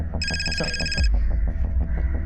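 A telephone rings with a single electronic trill burst lasting about a second, set over a loud throbbing music score in a crime drama.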